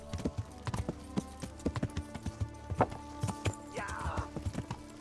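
Horse hooves clip-clop at a gallop in Kingdom Come: Deliverance, a steady run of sharp thuds up close, with a brief whinny-like cry near the end.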